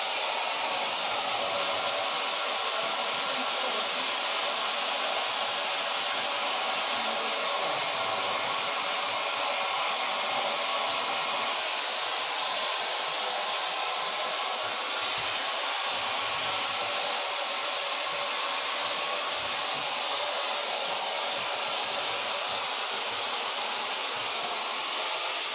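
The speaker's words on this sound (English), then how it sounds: "So far blow drying." A hair dryer blows continuously at close range while hair is being blow-dried, a steady loud airy rush with no breaks.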